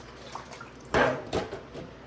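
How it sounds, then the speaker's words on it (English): Water is poured over rinsed chicken pieces for a brown stew, with a brief splashing pour near the middle, a second smaller splash after it and light dripping around them, close and quiet. "if I rinse it, I just pour a little bit of water over it"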